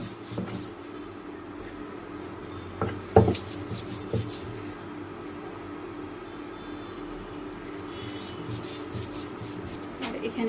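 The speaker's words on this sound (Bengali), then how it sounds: "এখন সবগুলো শুকনো মরিচ এবং পেঁয়াজ আর রসুন বেটে নিতে হবে" Dried chillies, onion and garlic are ground into a paste with steady rubbing, scraping strokes and a few sharper knocks of the grinding stone, moderately close in a home kitchen, with no talking.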